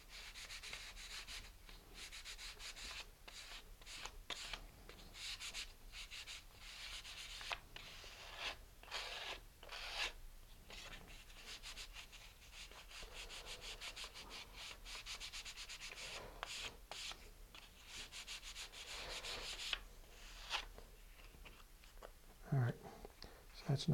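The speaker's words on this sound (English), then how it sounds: "Now I'm switched to some fine grit. This is 220 grit. And now I'm going to smooth the whole surface." Thin wood rocket fins being hand sanded with fine 220 grit sandpaper, close soft rubbing strokes in quick irregular bursts across the surface, with a person speaking quietly at moments.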